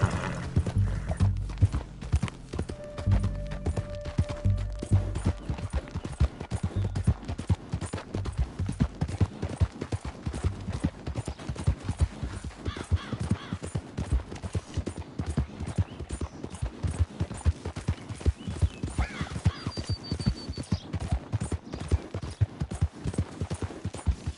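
A horse gallops in Red Dead Redemption 2, its hooves pounding in a fast, steady rhythm that goes on throughout, close and loud, with a few faint game sounds in the background.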